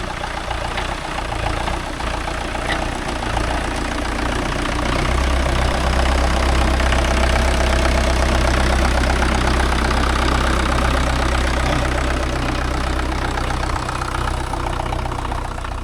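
A Mahindra 575 DI tractor fitted with cage wheels runs in a muddy rice field, its diesel engine giving a loud, continuous, steady throb close by throughout, with no voices.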